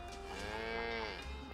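A cartoon cow in the video game Fairly OddParents: Shadow Showdown lets out one long, loud, wavering moo that fills the moment on its own.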